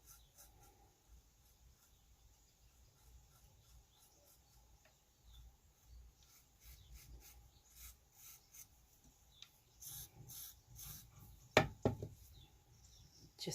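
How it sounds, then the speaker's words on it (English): Close, quiet scraping of a knife along the top rim of a small clay pinch pot, a series of soft rubbing rasps that build toward a brief louder scrape near the end. "So I'm going to just take my knife now, just scrape along the top."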